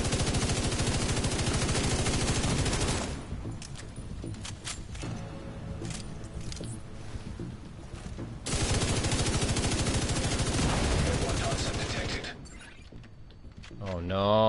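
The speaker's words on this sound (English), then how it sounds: "Shoot the tanks. Shoot the tanks. Well, I'll shoot the tanks." Sustained automatic gunfire fires at tanks in The Division 2, dense rapid bursts that drop to scattered mechanical clatter midway before surging again, loud and continuous with game sounds around it.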